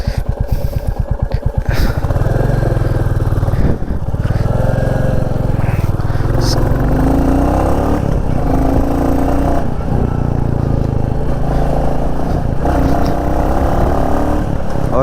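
Royal Enfield Classic 350 motorcycle ridden on a village road, its engine thumping steadily and loud throughout, with a brief sharp rhythmic burst near the start and faint talk mixed in.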